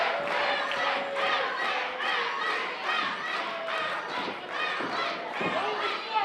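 A live wrestling crowd cheers and chants in a loud, rhythmic, pulsing roar that fills the room, with many voices rising and falling together throughout.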